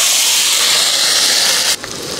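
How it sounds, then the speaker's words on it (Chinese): Edamame stir-frying in a wok gives a steady, loud hiss of steam and oil that cuts off abruptly near the end, leaving a quieter sizzle. "第一步先把毛豆炒熟。"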